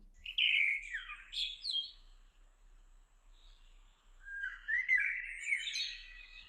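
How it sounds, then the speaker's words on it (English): Bright, fluting blackbird song phrases ring out in a forest in two bursts separated by a quiet gap, clear and fairly close with no other sounds. "we have some blackbirds here singing in the forest"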